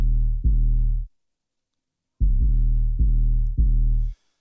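A soloed 808 bass run through a bit-crushing drive plugin, with deep, gritty sustained notes in two clusters of overlapping hits, loud and harmonically rich, separated by a short silence.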